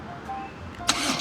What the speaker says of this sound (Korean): 이제 BMW R9T 스크램블러 21년식의 시동을 걸고 가볍게 한번 시승을 해보도록 할게요